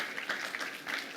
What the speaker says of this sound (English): if we are clapping, let us clap